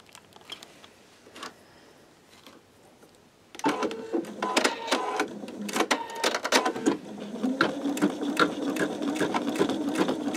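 A sewing machine stitches a greeting card on peel-and-stick stabilizer: after a few quiet clicks, the motor starts with a fast, close mechanical chatter of needle strokes that runs steadily to the end.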